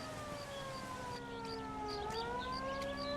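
An ambulance siren from the video game L.A. Noire wails steadily at a moderate distance, its tone sliding down and back up, with faint background bustle and no speech.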